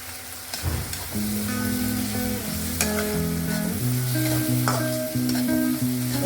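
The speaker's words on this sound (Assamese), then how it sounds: "এইখিনি মই যেতিয়ালৈকে বিলাহীখিনি তেলত গলি নাযায় তেতিয়ালৈকে মই এইখিনি ভাজি থাকিম" Tomatoes with turmeric and Kashmiri chilli powder sizzling in hot oil for a fish tenga curry, a loud continuous fry close by with occasional stirring scrapes, while steady tonal music plays underneath.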